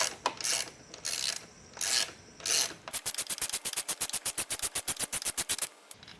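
A ratchet with an extension works a large bolt loose on a 2024 Honda CBR650R E-Clutch motorcycle during a frame slider install: a few slow strained pulls, then a rapid run of about twenty crisp, close clicks.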